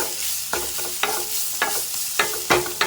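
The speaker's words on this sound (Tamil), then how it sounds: "நெய்யிலே நல்லா வதங்கட்டும்." Grated pumpkin sautés in ghee, a steady sizzle cut by a few sharp stirring scrapes of a spoon against the pan at roughly half-second intervals, close by and with no voices.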